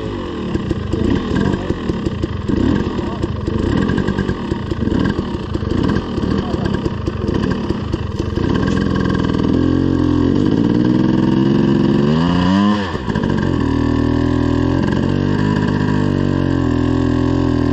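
A motorcycle engine runs loud and steady while the bike sits in a big mud puddle, its rumble rising and dipping with throttle changes, close up and continuous under occasional talking.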